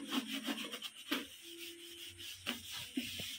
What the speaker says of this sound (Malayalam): ബട്ടൻസൊക്കെ നന്നായി തേച്ച് ചെയ്താം